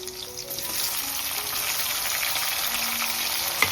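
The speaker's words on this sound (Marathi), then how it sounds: "चला आता आपण टॅमॅटो टाकून घेऊ" Tomatoes dropped into hot oil with prawns, sizzling hard and continuously up close, with one small sharp clink near the end.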